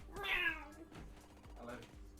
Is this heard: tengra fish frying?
no